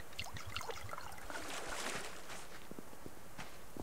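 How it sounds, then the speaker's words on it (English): Water trickles and pours steadily into two canteens in the survival video game Subsistence, a close, continuous splashing stream with a few light clicks scattered through it. "let's fill these two water canteens back up"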